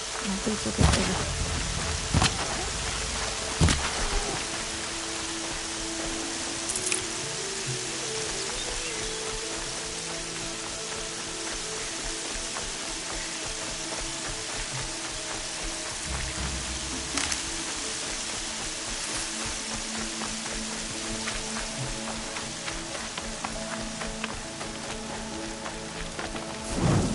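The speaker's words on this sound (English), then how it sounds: "More rain. I don't think we'll get there." Steady rain with rumbling thunder in the video game Horizon Zero Dawn, a constant hiss of falling rain with occasional sharp thunder cracks and low rolls, under intermittent game sounds and a few spoken lines.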